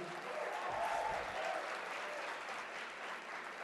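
Audience applause fills a large room at an award dinner, a sustained wash of clapping at moderate distance that swells slightly and then holds steady.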